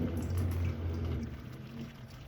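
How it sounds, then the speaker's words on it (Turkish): Water poured in one go into a V60 coffee dripper, the remaining 250 ml, giving a short close splashing, gurgling rush that fades over about two seconds. "Geri kalan 250 mililitre suyu da tek seferde dökeceğim."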